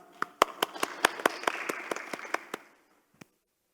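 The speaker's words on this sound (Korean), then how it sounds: "큰 박수로 모시겠습니다." Applause for a city council member joining a Korean peace forum session online: a short burst of clapping from a small audience, individual claps distinct, fading out after about two and a half seconds, with one stray clap afterward.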